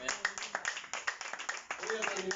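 Brief clapping from a church congregation, uneven and mixed with voices, a few seconds long under ongoing talk.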